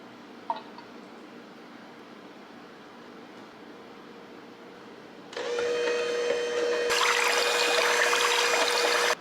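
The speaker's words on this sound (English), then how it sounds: "I'm gonna add my other water phase ingredients directly into the crock pot" Water-phase ingredients are poured into a crock pot while making a large batch of emulsified body butter, a quiet hum giving way to a louder steady stream of liquid that grows fuller partway through.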